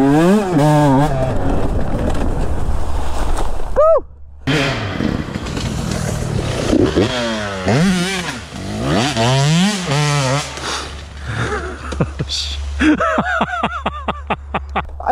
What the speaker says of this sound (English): A couple two-strokes ripping through the woods today.